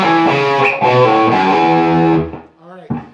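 Distorted electric guitar plays the second half of a song's intro riff, a sustained chugging line with a quick pull-off, before ringing out into a brief final note.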